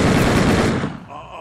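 Gunfire in the crime strategy video game Empire of Sin: a loud burst of rapid shots that cuts off abruptly, leaving a quieter tail.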